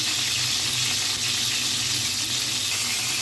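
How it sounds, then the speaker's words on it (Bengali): Hilsa fish heads frying in hot oil, a steady dense sizzle that holds evenly and close throughout with no pauses. "ইলিশ মাছের যে মাথাগুলা, সেগুলো একটু ভেজে নিব"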